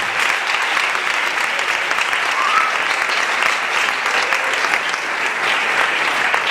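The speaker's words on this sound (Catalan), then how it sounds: "Jo demano un aplaudiment per ells, de veritat." Sustained applause from an audience at a presentation of a Catalan gypsy music event, dense and even for several seconds, with no talk over it.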